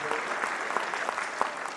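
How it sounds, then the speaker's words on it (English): Steady applause from a school concert audience at a middle school holiday concert, a dense wash of clapping at moderate volume filling the room throughout. "a round of applause for Joyce Harrington"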